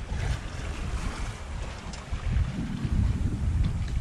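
A sailboat at sea making nearly 5 knots in a strong breeze, heading toward St. Peter's Canal: a steady, loud rush of wind and waves with heavy wind buffeting on the microphone throughout.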